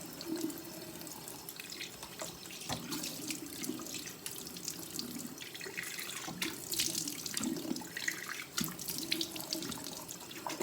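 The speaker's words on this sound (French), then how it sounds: "je vais rincer" Running tap water rinsing skin over a sink, a continuous close splashing flow with uneven spatters as hands move through the stream, no talking.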